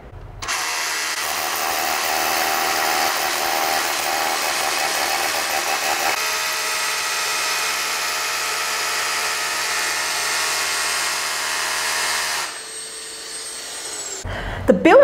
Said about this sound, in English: The built-in vacuum gets almost all the dust